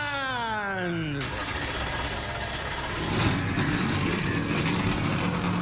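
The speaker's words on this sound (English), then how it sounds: "Engines fired up." Race car engines start in the iRacing video game before a stock car series race at Atlanta, a descending whine giving way to a dense, rumbling roar of many engines idling and revving, with a commentator talking over it.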